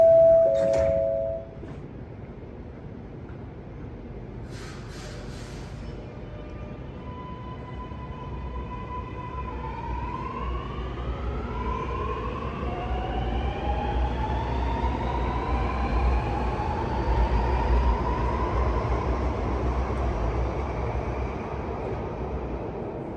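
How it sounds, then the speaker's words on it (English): Door chime of a Sydney Metro train at Waterloo station sounds briefly, then the train pulls away with a steady rumble and a rising electric whine that builds and holds. "Train doors closing."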